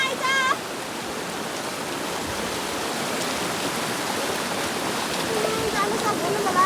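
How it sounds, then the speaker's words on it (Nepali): Muddy, dark floodwater rushes along a swollen mountain stream, a steady broadband roar that fills the whole stretch without pause, with a faint bird call or whistle briefly audible early on. "यस्तो कालो पानी आइरहेको छ देख्न सक्नुहुन्छ।"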